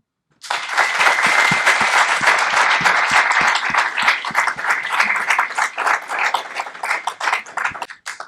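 Audience applause welcoming Senator Dick Durbin at an Institute of Politics event, a dense, steady crowd clapping that starts abruptly and holds loud and even for several seconds before trailing off.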